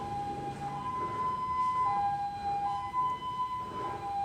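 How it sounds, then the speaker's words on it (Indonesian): Electronic siren tone alternating between two pitches, a steady high-low warble played close and loud over a faint background hiss, apparently from a vehicle siren or horn unit being tested. "Apa itu, ada suara sirine."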